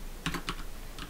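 Code being typed on a computer keyboard, a handful of quick, close keystrokes in two short bursts with a gap between, heard alone.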